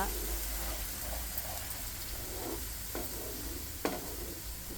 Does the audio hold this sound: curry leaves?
yes